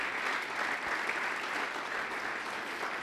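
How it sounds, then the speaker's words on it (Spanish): A church congregation claps during an evening service, a continuous, even wash of many hands applauding throughout, moderately distant and filling the room. "Dale un aplauso al Señor en esta tarde."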